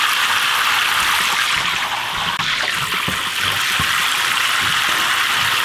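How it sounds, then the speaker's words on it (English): Hot water rushing down a clogged RV toilet during a flush, a steady loud broadband wash of flowing water with no talking. "So I'm going to flush a few times with some hot water."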